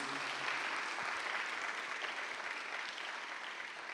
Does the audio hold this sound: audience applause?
yes